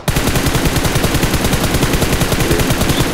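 Rapid automatic gunfire from players fighting inside a house in PUBG Mobile, a loud, dense stream of shots with a steady fast rhythm and no pauses.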